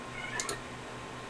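A cat meows twice in quick succession, short and moderately clear over a steady background hum, with no talking.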